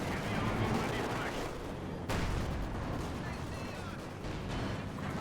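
Maxim machine gun laying down suppressive fire in Company of Heroes 2 during a 4v4 artillery match on the Port of Hamburg map, a continuous dense crackle of gunfire mixed with battle noise and a sharp burst near the middle.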